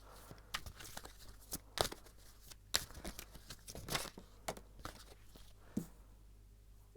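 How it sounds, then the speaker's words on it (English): Tarot cards are shuffled by hand in a quiet room, giving a steady run of soft, close slaps and riffles with papery crinkles and no talk. "I'm gonna shuffle a bit more."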